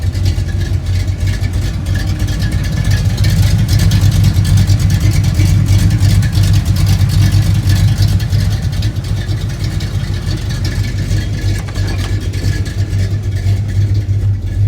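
A cammed 305 V8 in a 1981 Chevy K10 lifted truck with welded mufflers and a manual gearbox rumbles loud and close, holding a heavy, lumpy, steady idle throughout with no voices.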